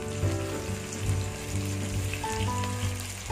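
Curry leaves and onions frying in oil for a crab kuzhambu, giving a continuous crackling sizzle with some stirring movement beneath a steady background hum, no speech.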